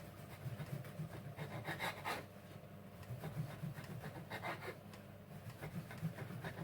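Knife sawing through stale bread ends to cut them into strips, soft repeated rasping strokes in an irregular rhythm, faint and close.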